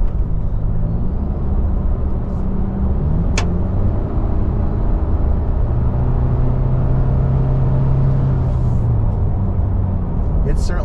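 A 2024 Toyota Tacoma SR pickup truck drives along with a steady, loud engine rumble and road noise throughout, a brief higher tone rising and fading midway, while someone talks over it.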